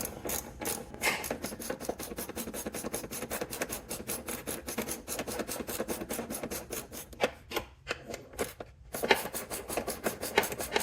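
A ratchet wrench tightens the front upper ball joint bolt on a 2003–07 Honda Accord, giving a continuous, close, dense clicking and rasping of the pawl that pauses briefly near the end before resuming.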